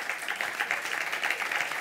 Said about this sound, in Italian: No, no, non applaudite, grazie.